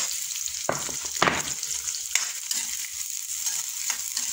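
Garlic and onion sizzle in a hot pan, a continuous bright frying hiss with several sharp bursts as the pieces are stirred and scraped around.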